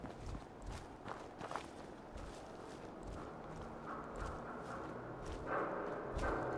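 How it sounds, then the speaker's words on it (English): Heavy footsteps from a large creature in the game Fallout 4 thud repeatedly at an uneven pace, fairly quiet beneath a steady ambient game backdrop. "I hear really big footsteps."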